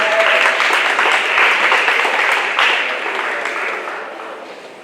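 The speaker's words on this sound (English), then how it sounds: "Let's give him a round of applause" Audience applause at a fatherhood awards ceremony as a scholarship recipient is called forward, steady dense clapping from a crowded hall that gradually fades toward the end.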